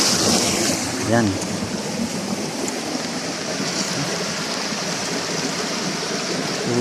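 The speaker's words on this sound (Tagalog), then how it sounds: "Tubig." Water flows steadily at a dam along a tall canal, a broad constant rushing close by with a brief voice near the start.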